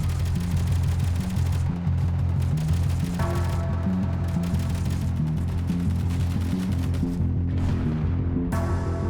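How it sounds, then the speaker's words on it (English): Incoming gunfire in a video game hammers away in dense, steady bursts with booming impacts, loud and continuous throughout. "Incoming fire!"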